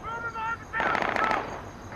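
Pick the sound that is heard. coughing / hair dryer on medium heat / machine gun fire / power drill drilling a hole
machine gun fire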